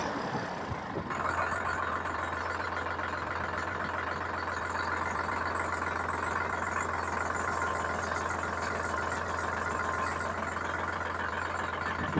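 A Sonalika DI-42 45 HP tractor engine idles steadily, a low constant rumble with a mild mechanical clatter lasting throughout, close and loud with no talking.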